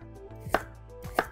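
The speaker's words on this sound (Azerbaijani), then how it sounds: "kökü doğrayırıq." Peeled carrots are chopped with a knife on a board, two crisp, separate chops roughly half a second apart, close and clear over a quiet low hum.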